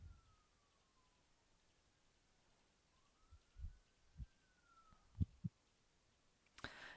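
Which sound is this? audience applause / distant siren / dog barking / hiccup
distant siren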